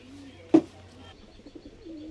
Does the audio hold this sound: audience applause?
no